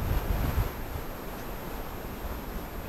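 Wind blowing over reeds by the water during a duck hunt, a steady broadband rush with gusty buffeting close to the microphone, continuous and fairly faint, no voices.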